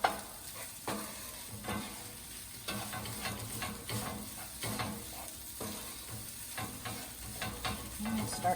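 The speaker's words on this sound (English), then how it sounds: "So you just want to stand here and keep mixing and mixing." Tofu scramble with yeast and dry ingredients sizzles in a pan while a utensil stirs and scrapes in a loose repeating rhythm over a continuous soft frying hiss, close and moderately quiet.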